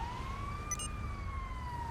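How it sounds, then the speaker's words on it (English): Ambulance siren in the video game GTA 5, a single long rising and falling wail heard at moderate distance over a low rumbling background, with a brief chirp partway through and no talking. "Another ambulance coming by."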